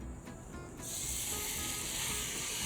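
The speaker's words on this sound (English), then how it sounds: "And you can hear it sizzling already." Steady, loud sizzling of chicken frying in hot oil, a dense crackling hiss that swells after a quieter start and then holds constant.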